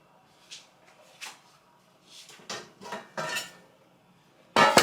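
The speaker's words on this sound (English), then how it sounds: "So now let's get our pans together." Metal pans in a kitchen being picked up and set down, a series of separate clanks and clinks at uneven spacing with one louder clatter at the end.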